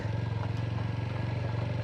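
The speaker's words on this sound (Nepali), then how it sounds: "पुलमा हालिदिउँ बाइक" A motorcycle rolls onto a bridge during a jungle safari trip in Chitwan National Park, Nepal, its engine holding a steady low throbbing hum at moderate distance with no voices present.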